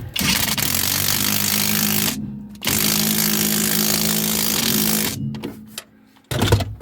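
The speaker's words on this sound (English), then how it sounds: "I'm just going to whiz this on again with the impact driver" An impact driver tightens a rear shock absorber nut on a Volvo: two long, loud buzzing runs of hammering with a short pause between, then a brief final burst after a near-silent gap.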